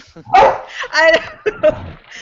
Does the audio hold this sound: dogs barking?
yes